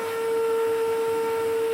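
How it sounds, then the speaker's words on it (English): A vacuum cleaner sucks up ash from a wood burning stove, a steady close whine with a strong sustained tone, loud and alone for under two seconds. "And then you hoover it up like that."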